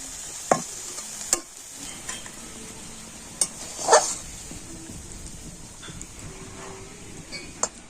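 Shrimp pitha filling being stirred in a pan, a soft scraping and shuffling with a faint sizzle underneath and several sharper knocks of the spoon against the pan, close by and steady with no talking.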